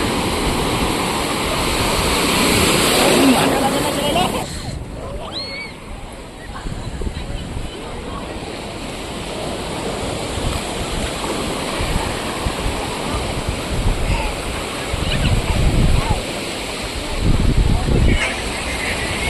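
Sea waves wash steadily onto Suvali beach near Surat, a broad, continuous roar of surf that swells and eases throughout, with voices faintly mixed in.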